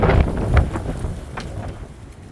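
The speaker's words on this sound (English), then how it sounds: "I don't think I'm going to be able to record much because of the wind" Outdoor wind buffeting the microphone near a shed at a rural property, a loud rumbling gust at first that eases off into a softer rushing roar, with no voices.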